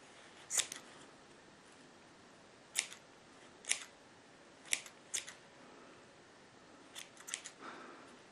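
Scissors snip through bundles of yarn for a pompom, several crisp close-up cuts in small clusters separated by quiet pauses.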